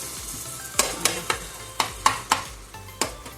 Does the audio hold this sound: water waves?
no